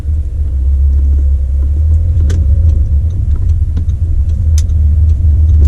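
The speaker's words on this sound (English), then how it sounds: "So folks, we're just going to take the car for a quick drive." A VW Audi car on a test drive after brake work, with steady low engine and road rumble heard from inside the cabin, continuous and loud with no voices.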